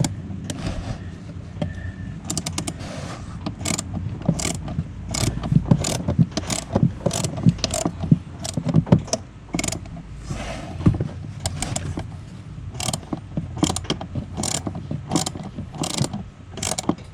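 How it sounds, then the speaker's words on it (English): Quarter-inch drive ratchet fitted with a T25 bit works a fastener on a Can-Am Spyder during a battery change, giving rapid, close metallic clicking in repeated bursts over a low background hum. "I went and got my quarter drive with a T25 on it"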